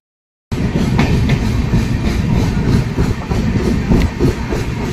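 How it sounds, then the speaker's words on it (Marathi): A Konkan Kanya Express train at Sawantwadi station, a loud, steady rumble of rolling stock with faint clicking, starting abruptly after a brief silence and holding close and continuous throughout. "आणि ट्रेन थांबली सावंतवाडी स्टेशनला"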